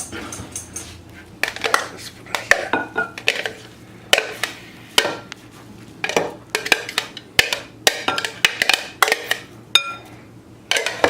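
Fish cake mixture stirred in a bowl, a series of wet slaps and clinks of a utensil against the bowl in uneven bursts, close and moderately loud.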